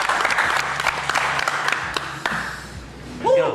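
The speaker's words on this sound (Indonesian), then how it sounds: "Ayo tepuk tangan lagi," A crowd breaks into scattered clapping and applause, fairly close, with voices chattering around it.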